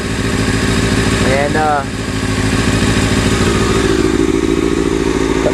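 A motorcycle engine idles close by with a steady rumbling drone during an oil change, while a person speaks briefly over it.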